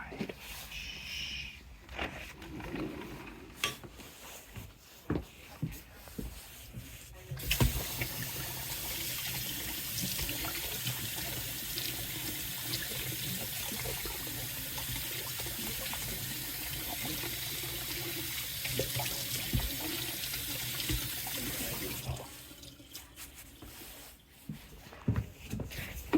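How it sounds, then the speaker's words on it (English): Running tap water splashes steadily over a dirt bike part being washed, a continuous broadband rush lasting about fifteen seconds with faint handling noises before and after, recorded close up outdoors. "I'm gonna go wash my part now"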